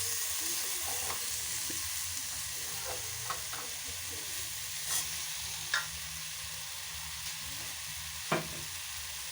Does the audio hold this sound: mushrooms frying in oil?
yes